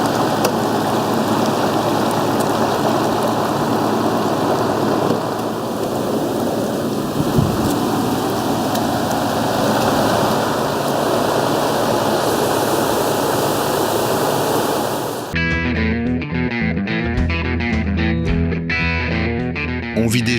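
Floodwater rushing against plastic flood barriers during a flood, a loud steady roar of churning water that cuts abruptly near the end to a different musical passage.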